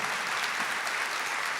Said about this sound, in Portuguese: Vamos dar uma salva de palmas para São Luís também.